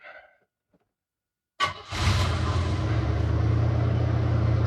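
A 1980s GM car's engine cranks and catches after a short silence, then settles into a steady, close, rumbling idle as it is driven into the shop.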